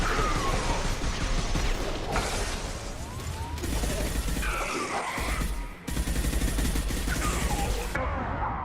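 Shotgun gunfire in a Mass Effect 2 firefight, a dense, loud barrage of blasts and crashing impacts that barely lets up.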